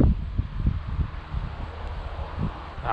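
Strong outdoor wind rumbles and buffets the microphone in steady low gusts throughout, with no talk, during a topwater lure fishing outing.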